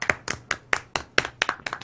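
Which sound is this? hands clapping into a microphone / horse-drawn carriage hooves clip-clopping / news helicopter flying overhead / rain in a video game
hands clapping into a microphone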